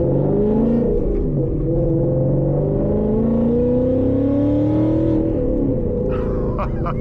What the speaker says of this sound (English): This is how a Mustang was supposed to sound.